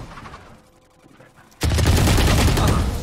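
Loud, sustained automatic gunfire from Valorant erupts after a quiet lull, a dense rattling burst that fills the final second and a half of the round.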